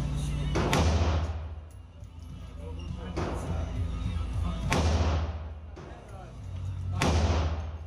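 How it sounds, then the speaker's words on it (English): Gunshots fired on a 25-yard range while zeroing for a 50-yard zero, five sharp, loud reports spaced a second or more apart, each with a booming decay, and faint voices between shots. "let's shoot that again."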